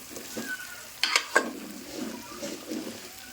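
Brinjal (eggplant) frying in a little oil in a pan, with a soft continuous sizzle and a few brief clinks of a utensil against the pan.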